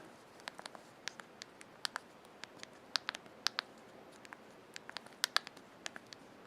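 Typing on the full QWERTY keyboard of an LG Vu Plus phone for AT&T: quick, irregular plastic key clicks, close and fairly quiet, scattered throughout with no talking.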